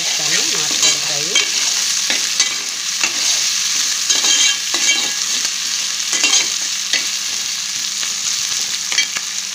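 Country chicken frying in a pan, a continuous bright sizzle with regular spatula stirs and scrapes, close up and with no talk.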